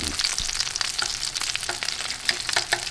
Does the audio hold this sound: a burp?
no